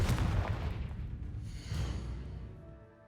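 Confringo explosive spell from Hogwarts Legacy bursting in a heavy, booming blast that rumbles and decays over a few seconds, with a brief whooshing tail and no voices.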